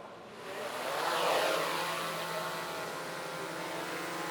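A small remote-controlled drone lifts off and flies close by, giving a steady, broadband whirring buzz that swells as it climbs and then holds level.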